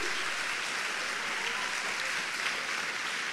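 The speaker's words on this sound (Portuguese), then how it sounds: "Aplauda o Senhor, porque Ele é digno." A church congregation applauds during a Portuguese-language sermon, a dense, steady wash of clapping that holds evenly through the whole stretch with no voices on top.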